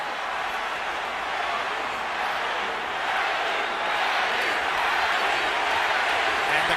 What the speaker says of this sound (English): And the crowd picks up the chant.